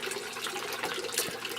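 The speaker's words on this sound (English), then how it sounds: "This is where the water runs back into the fish tank." Water from an aquaponics system pouring back into a 150-gallon Rubbermaid stock tank holding goldfish, a steady close splashing trickle with no pauses.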